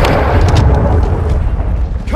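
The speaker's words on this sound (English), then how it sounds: "Friendly cruise missile approaching target." A cruise missile strike in Call of Duty: Modern Warfare II hits as a loud, sustained booming explosion that rumbles through the whole moment with heavy low-end roar and crackling debris.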